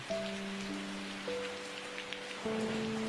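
Soft drizzle falling on a grassy meadow, a steady fine hiss heard beneath sustained, gentle musical tones that shift a few times.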